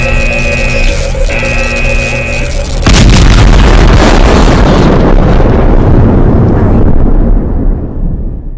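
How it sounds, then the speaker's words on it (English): A massive energy core explosion in the game Last Days of Lazarus, striking suddenly as a loud roaring boom that follows a humming electronic drone and then slowly fades into a long rumbling tail. "It's overcharging. Let's get the hell out of here. This thing is going to explode."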